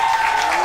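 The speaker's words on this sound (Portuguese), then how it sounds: "cadê as palmas aí" A dense, steady burst of audience clapping at a concert crowd, loud and close, with a faint held tone beneath it.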